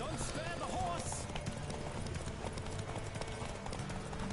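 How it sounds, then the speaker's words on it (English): Rhythmic clip-clop of a horse galloping in The Witcher video game, steady hoofbeats running continuously under a busy game soundscape with voices and effects. "horse stamina's dropping fast"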